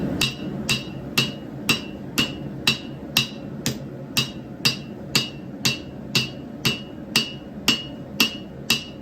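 A hammer strikes steel in a steady, even rhythm while hand-forging san mai for a knife, each ringing blow about half a second apart, close and loud with nothing else heard.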